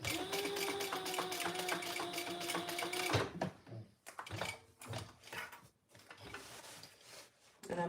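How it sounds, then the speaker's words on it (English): A sewing machine back stitching across vinyl, a fast mechanical run of needle strokes for about three seconds, then shorter choppy bursts and pauses, with a voice in the background. "I'm going all the way to the end of my vinyl, back stitching."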